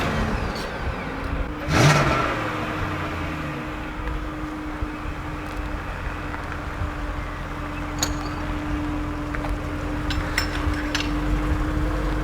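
A 2001 BMW 7 Series E38 740i engine gives one short loud rev, then settles into a steady, even idle hum close by.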